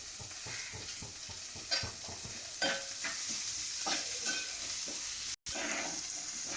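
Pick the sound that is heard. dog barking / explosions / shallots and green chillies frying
shallots and green chillies frying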